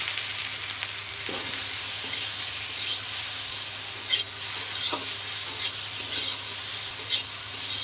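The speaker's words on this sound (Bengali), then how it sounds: "হালকা করে আলুগুলো ভেজে নেব" Potatoes lightly frying in oil in a wok, giving a constant close sizzle broken by occasional spatula scrapes and small pops, with no talking.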